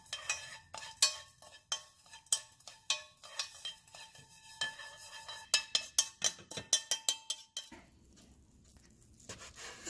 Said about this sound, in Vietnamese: Vẫn đảo trên chảo này.